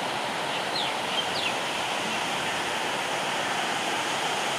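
Floodwater released into a canal on the upper Jhelum rushes past in a steady, broadband roar of turbulent water, constant and moderately loud, with a couple of faint bird chirps above it.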